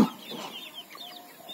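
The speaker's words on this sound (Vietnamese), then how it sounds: "Rồi, tới bầy gà." A flock of farm chickens clucking in a chorus of short overlapping calls, moderately close, on an organic eco-garden farm.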